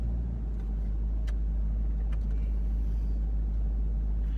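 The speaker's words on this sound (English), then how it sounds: "All you have to do now is let go of the brake and just keep doing left and right, and the car will just get itself out on its own." A Toyota Land Cruiser LC200 in four-wheel low with crawl control crawls itself out of sand, producing a steady low engine rumble and tyre drone that stays loud and even throughout, with no talking.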